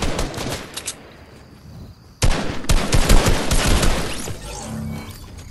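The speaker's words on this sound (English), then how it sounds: "Hey, they're using new pistols." New pistols firing in Fortnite, a rapid volley of sharp shots that drops away briefly and then bursts back in dense, loud overlapping fire.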